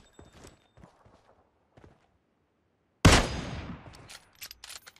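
Gunfire in a battle royale shooter game, scattered faint footsteps and clicks before a sudden loud burst of shots that rings out and fades, followed by a few sharp single reports.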